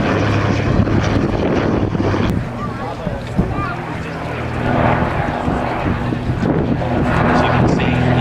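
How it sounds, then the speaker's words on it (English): A de Havilland Dragon Rapide propeller biplane takes off at the Duxford D-Day airshow, its loud droning engine mixed with heavy wind buffeting on the microphone and a voice talking over it. "As you can see, the aircraft goes up."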